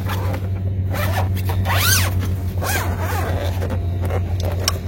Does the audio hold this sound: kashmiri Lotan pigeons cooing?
no